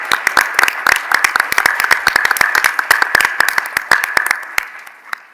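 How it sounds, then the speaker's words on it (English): Audience applause for panelists at the close of a state utility board's federal efficiency funding technical conference: sparse, distinct claps from a modest crowd, steady and fairly close, thinning toward the end. "If we can just give one last round of applause for all the panelists today."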